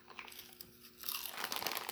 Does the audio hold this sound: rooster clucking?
no